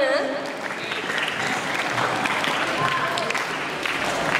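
A crowd at a Maulid Nabi commemoration applauds steadily with dense, sustained clapping, loud and close, with some voices mixed in underneath.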